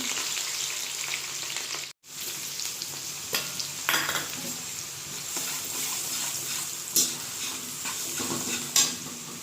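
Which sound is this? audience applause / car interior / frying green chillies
frying green chillies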